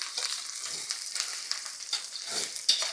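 Onions fry in a little oil in a wok, a bright continuous sizzle with crackling pops and bursts of stirring, close and alone without speech.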